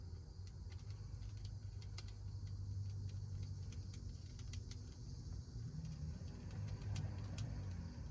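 A car engine outside rumbles faint and distant beneath a quiet room, with light intermittent ticking on top.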